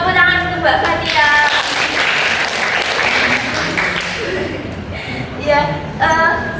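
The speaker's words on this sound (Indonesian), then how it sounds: "Tepuk tangan untuk Mbak Fatia." Classroom applause from young pupils for a classmate during a primary maths lesson, a scattered burst of clapping mixed with children's voices and chatter throughout.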